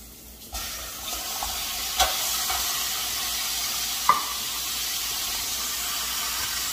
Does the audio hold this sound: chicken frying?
yes